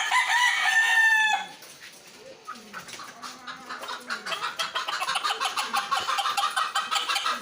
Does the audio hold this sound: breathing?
no